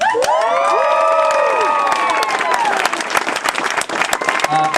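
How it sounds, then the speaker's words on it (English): Wedding guests burst into loud applause and cheering, with whoops and shouting voices rising over continuous clapping, the cheers tapering while the clapping carries on to the end. "Round of applause for Katrina and Ashley"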